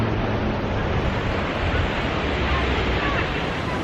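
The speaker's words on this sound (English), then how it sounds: "This is Bronte Beach." Ocean surf at Bronte Beach in Sydney produces a continuous, loud broadband wash of breaking waves mixed with gusty wind buffeting the microphone, with no distinct pauses.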